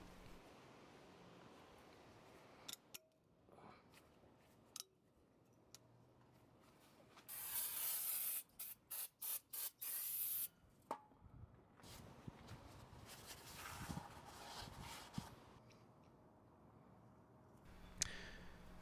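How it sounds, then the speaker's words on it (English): Cleaner is sprayed onto the brake rotor of a 1997 Ford Ranger to strip factory grease, a cluster of sharp hissing bursts in the middle amid quieter handling clatter and scattered knocks. "Clean the factory grease off of your brake rotor"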